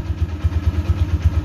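An MP Primus motorcycle engine idling with a steady, loping low thump, about eight pulses per second, close and loud with no one speaking.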